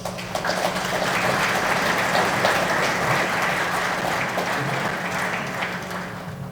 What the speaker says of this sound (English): I want you to give yourself a resounding round of applause.